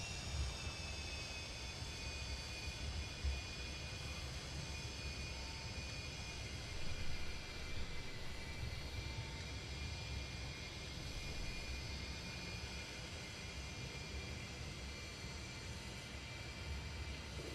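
An MD-83 airliner taxis in a flight simulator game, with a steady, even engine whine and broad rushing hum that carry on unbroken, with no talk over them.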